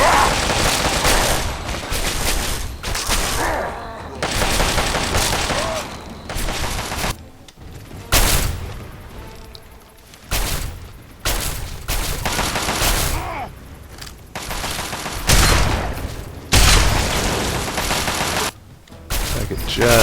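Tri-beam laser rifle fire in the video game Fallout 3 comes as loud bursts of rapid, crackling shots, broken by short pauses, with several shooters firing in close succession.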